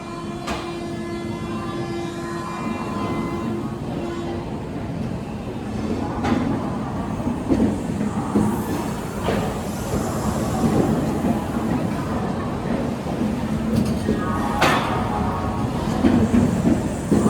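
Kaviguru Express 13015 with new LHB coaches on the Howrah–Jamalpur run, heard from inside a coach as a continuous rumbling roll with rhythmic wheel clicks and occasional squeals, steady and moderately loud.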